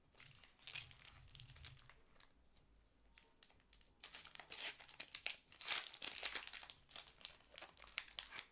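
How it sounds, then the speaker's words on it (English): Foil packs of 2018 Bowman baseball cards being cut with scissors and torn open, giving faint, busy crinkling and ripping with scattered sharp snips and rustles, close and continuous, with no voices. "Cut some of these open and rip into them"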